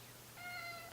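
A cat lets out a single short, quiet meow that rises in the second half of the moment over faint background hum.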